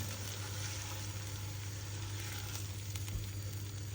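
Bell pepper and Scotch bonnet stirred in hot oil in a pot for egusi soup, a steady close sizzle with a low constant hum underneath and no talk.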